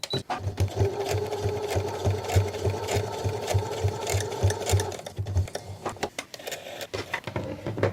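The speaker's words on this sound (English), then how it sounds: "I'm gonna sew this first and then do those, just to make sure everything fits together" A sewing machine stitches fabric for a homemade sleep mask in rapid rhythmic bursts for about five seconds, then stops, leaving handling clicks and rustles close by.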